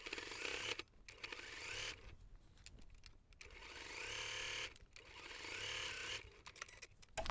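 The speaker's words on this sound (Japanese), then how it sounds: "ではぐるっと一周1センチの縫い代で縫っていきます。" Sewing machine running a 1 cm seam allowance around a bag: close mechanical whirring stitching in several bursts with short pauses in between, no speech.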